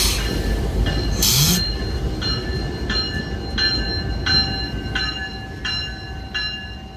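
Freight train locomotives move through a rail yard in La Crosse, with wheels squealing in a steady series of sharp, ringing pulses over a constant low rumble.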